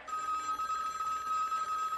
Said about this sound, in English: Nope, that's phone.